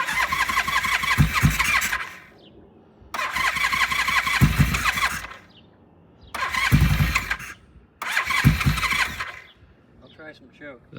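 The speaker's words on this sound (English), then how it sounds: "I'm gonna start it with no choke" Kawasaki-style V17 gold motorcycle engine cranked without choke, four separate bursts of starter whir and sputtering engine each lasting one to two seconds, separated by short pauses, close and loud.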